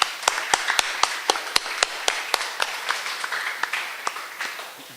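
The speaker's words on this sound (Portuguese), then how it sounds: "Vamos dar uma salva de palmas para Jesus?" Church congregation applause at an evening service, heard as sparse, distinct individual claps in a loose rhythm, a few hands striking near the microphone over a soft background patter that slowly fades.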